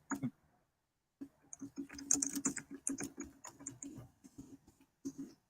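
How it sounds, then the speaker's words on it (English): Bursts of keyboard typing, close and quiet, as uneven rapid clusters of clicky keystrokes broken by short pauses. "You hear me typing?"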